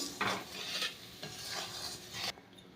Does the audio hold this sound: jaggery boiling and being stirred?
yes